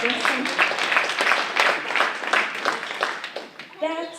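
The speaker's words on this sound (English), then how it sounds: "Yeah, you can clap." An audience at a public talk on race and policing in Portland breaks into steady, dense clapping that carries on for several seconds before a voice speaks at the end.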